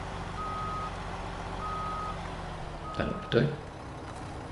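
A semi-trailer truck reverses in the video game SnowRunner, its steady reversing beeps repeating over a constant engine drone, with a brief voice and a couple of bumps near the end.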